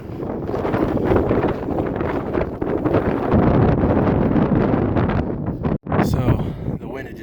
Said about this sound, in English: Of course it picks up right as I go to record a video.